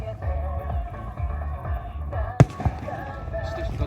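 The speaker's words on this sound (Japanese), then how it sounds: "大曲がりに出してる人たちの花火だ。" Fireworks burst at the Noshiro port festival: two sharp, distant bangs in quick succession rise over a low murmur of crowd and nearby voices.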